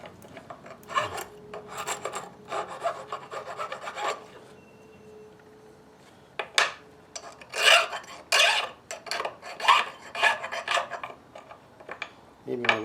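Hand file rasping across a freshly machined lathe half nut to knock off burrs, in short bursts of scraping strokes with pauses, close and moderately loud, plus a few clinks of metal.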